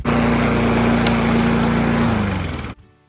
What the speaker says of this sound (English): The self-propel is working very nicely.